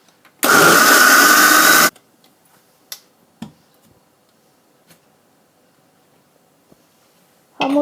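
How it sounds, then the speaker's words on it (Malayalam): An electric blender grinds chickpeas with added water for traditional Lebanese hummus, a loud, steady whirring burst lasting about a second and a half, then cutting off to near silence with a few faint knocks. "ബാക്കിയുള്ള വെള്ളം കൂടി ചേർത്ത് കൊടുത്ത് ഒന്നുകൂടി അരച്ചെടുക്കാം."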